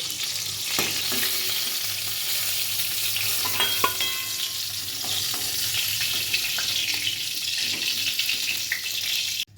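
Pieces of pointed gourd fry in hot oil with a loud, continuous sizzle and crackle, with a few clinks of a utensil against the pan near the middle and no voices.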